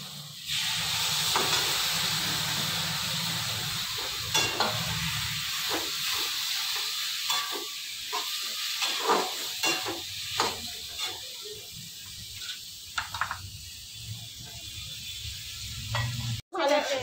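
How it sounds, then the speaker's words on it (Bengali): Spice paste with turmeric frying and being stirred in a pan before prawns go in, a continuous hissing sizzle with repeated scraping stirs and clinks throughout, close and fairly loud. "ভালো করে দেখো কষাচ্ছি"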